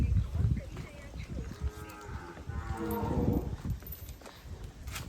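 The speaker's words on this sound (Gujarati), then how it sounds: "ગાયું બધી ઓલ્ડ બ્રીડ જસદણ દરબારની" A cow of the old Jasdan Darbar breed lets out a long, loud moo close by, with the lowing rising and falling over several seconds among farmyard shuffling.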